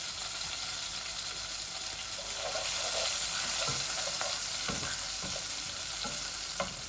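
Garlic, bay leaves and cinnamon sticks sizzle steadily in hot oil in a pan, a continuous close frying hiss broken by occasional stirring clinks and scrapes, with no talking.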